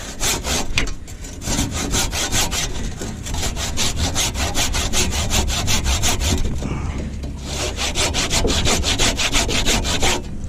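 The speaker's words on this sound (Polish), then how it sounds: "Tylko muszę trochę dociąć, bo tarcza nie sięga." Steady, loud circular saw cutting wooden roof rafters, a continuous rasping whine with rhythmic pulsing, close by and alone with no talk.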